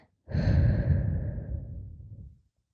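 A deep breath drawn in and let out during a guided relaxation exercise, one long audible breath that swells quickly and fades over about two seconds, close and clear with no talking.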